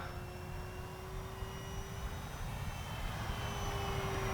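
An Arrows Trekker radio-controlled airplane flies overhead with its engine running, a steady humming drone with a sustained whine that holds on throughout, moderately distant and fairly faint against outdoor background noise.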